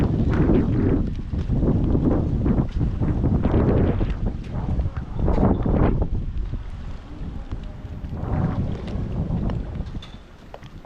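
Strong wind at sea near moored boats, heavy gusty buffeting and rumbling wind noise on the microphone that rises and falls in waves, loud and close, with no talk over it.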